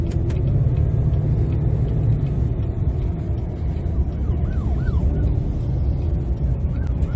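Road traffic noise during a police car chase in Texas: a steady, loud rumble of car engines and tyres, with a faint wailing siren rising and falling in the distance toward the end.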